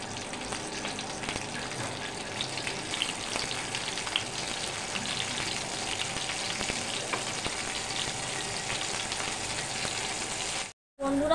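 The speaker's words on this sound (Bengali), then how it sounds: "প্রথমে আমি পটলগুলো ভেজে নিচ্ছি। একদম লাল লাল করে ভাজতে হবে।" Salted, turmeric-coated pointed gourd (potol) frying in oil, giving a dense, continuous close sizzle throughout with slight swells, cut off briefly near the end.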